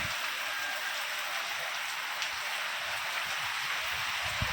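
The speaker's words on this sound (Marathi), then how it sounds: "बघा हे पाऊस." Steady heavy rain pours down without a break, a dense, close hiss of drops drumming on surfaces with a few sharper splats, no voices over it.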